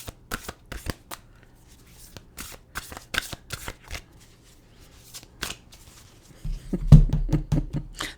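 Oracle cards are shuffled with quick, crisp riffling taps in short bursts, close up, followed by a low rumbling thud near the end.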